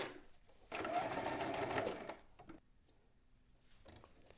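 A sewing machine stitches down a ribbon halter strap in a short, steady burst of fast mechanical whirring, close and moderately loud, then stops and gives way to quiet handling clicks.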